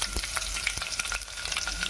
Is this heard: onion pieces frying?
yes